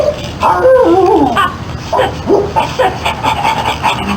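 A man imitates a dog with his voice, giving a string of yips, whimpers and bow-wow barks for a command scene in the Voyeur video game, loud and close, with short bursts repeating over a few seconds.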